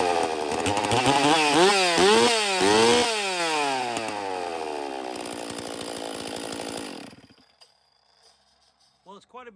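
A STIHL chainsaw fitted with a dual port muffler runs loud and close, revving up and down several times before the engine cuts out and falls to near silence.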